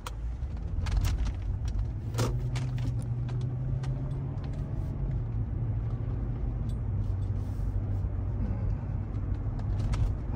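A Toyota Celsior V8 luxury sedan fitted with a Fujitsubo aftermarket muffler drives along, its engine a quiet, smooth low rumble heard from inside the cabin, with a few faint clicks and rattles over the road noise.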